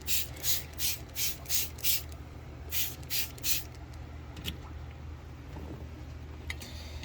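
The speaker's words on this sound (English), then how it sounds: "I'm just gonna do a quick spray in everyone's cages." A spray bottle misting animal cages fires a quick series of about nine short hissing bursts in a steady rhythm, then pauses, followed by a few faint rustles.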